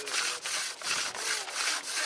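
Hand drill spindle spun between the palms against a wooden board for a friction fire, giving a rhythmic, close rasping rub in repeated strokes about every third of a second, with steady broadband friction noise and no talk.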